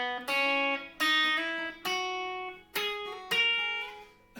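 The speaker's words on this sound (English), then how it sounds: "I want you to slide between those two notes." Five plucked guitar notes ring out one after another, each sliding smoothly up a semitone before fading, played alone and fairly quietly.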